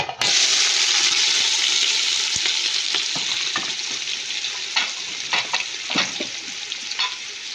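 Onions dropped into hot oil in a large cooking pot burst into a loud sizzle that gradually settles into steady frying, with scattered stirring clatters, no voices.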